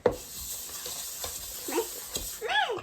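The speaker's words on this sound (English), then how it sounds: "You gotta break up the butter." A toddler mixes peanut butter cookie dough in a bowl, breaking up butter with soft, irregular scraping and stirring sounds close by, interrupted by brief high-pitched childish vocal sounds.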